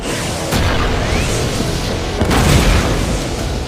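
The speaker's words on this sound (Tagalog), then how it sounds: "Hindi ka naman nadamay sa pagsabog, di ba, Hattori?" An explosion in the Detective Conan anime film The Crimson Love Letter: a dense, loud roaring blast that sustains for seconds, with sharp cracking bursts near the start and middle and no talk.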